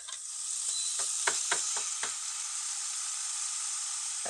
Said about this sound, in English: And it is sizzling.